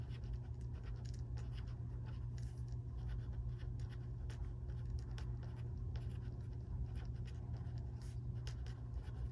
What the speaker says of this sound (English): I'm writing out the first one.